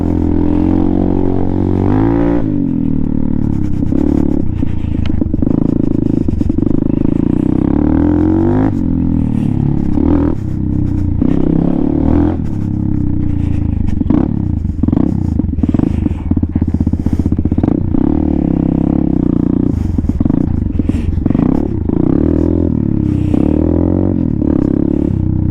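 A Venom Thunder 125cc motorcycle fitted with a newly installed Nibbi carburetor is ridden, its loud, close engine droning steadily and rising and falling in pitch as the throttle is worked, with rattles and scrapes throughout.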